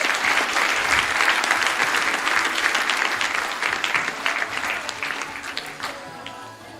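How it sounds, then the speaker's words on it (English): Audience at a town hall meeting applauds steadily, a dense wash of clapping that stays loud and sustained before tapering slightly toward the end. "Can we give them a round of applause?"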